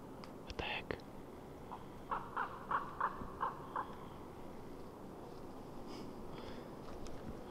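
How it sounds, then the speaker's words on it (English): Outdoors in an open space, a crow or raven caws in a quick series of harsh calls, moderately distant, amid faint rustling and breathy sounds near the recorder. "Spooky crow or raven."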